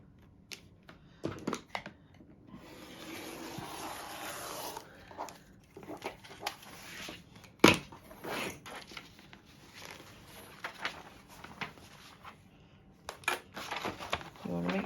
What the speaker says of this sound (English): we're going to trim along our cut lines